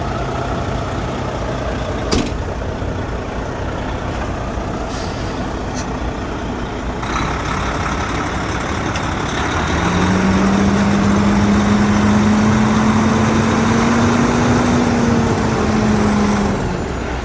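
A truck's diesel engine runs steadily as it pulls forward during a coupling and uncoupling test, a loud, close rumble that grows stronger partway through with a rising mechanical whine.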